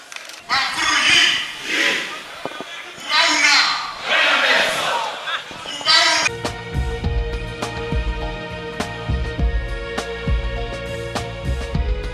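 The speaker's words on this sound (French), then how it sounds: "Merci et une fois de plus, ovation s'il vous plaît." A crowd at a political rally in the Palais des Congrès de Brazzaville roars in sustained ovation for about six seconds, then loud music with a heavy beat takes over.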